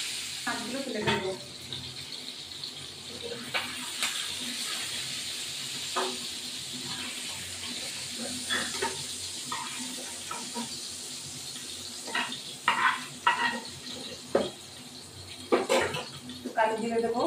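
Fish sizzling in hot oil for a thin hilsa curry with ridge gourd makes a steady frying hiss, with clinks and scrapes toward the end and some talk over it.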